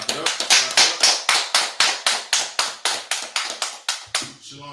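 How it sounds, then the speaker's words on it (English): An audience claps in a steady, fast rhythm of sharp hand claps for several seconds at a gathering of the Israelite School of Universal Practical Knowledge in Washington DC. The clapping fades out at the end. "let's clap it up"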